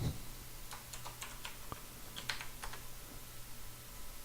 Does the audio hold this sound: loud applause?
no